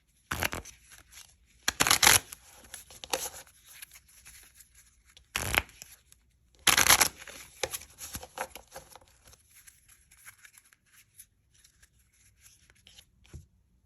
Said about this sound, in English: get the pack of cards out, do a little shuffle